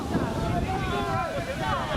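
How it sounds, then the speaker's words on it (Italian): Strong wind blows across a football pitch at Misilmeri during an under-19 match, a loud continuous roar and buffeting against the microphone that fills the whole stretch. "come potete sentire anche in sottofondo. Forte vento, tanto vento qui a Misilmeri."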